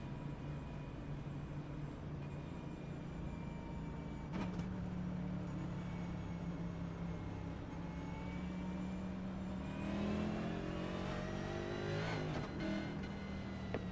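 Stock cars in the iRacing sim accelerate down pit road during a Cup Series race at Darlington, a steady engine drone with rising revving tones building near the end, moderately faint and with no talk.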